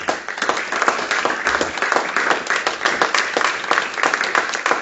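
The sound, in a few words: congregation applauding to acclaim the Lord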